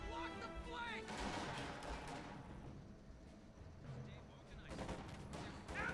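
Panther tank machine guns firing in Company of Heroes 2, dense bursts of automatic gunfire mixed with battle noise, with someone talking over the top throughout.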